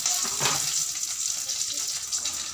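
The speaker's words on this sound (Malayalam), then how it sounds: "കടുകും കറിവേപ്പിലൊക്കെ ഇട്ടിട്ടാണ് കേട്ടോ വറവിടുന്നത്" Mustard seeds and curry leaves hit hot oil for tempering, making a steady close sizzle with light crackling and spitting throughout the short stretch, with no talking.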